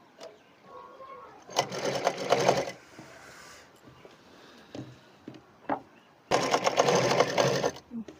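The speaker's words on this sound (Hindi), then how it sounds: "टाँका लगाने के बाद उलट कर उसको ऊपर से सिलाई करना है।" A sewing machine runs in two clear bursts of rapid, even stitching on suit fabric, with quieter handling and soft voices heard between the runs.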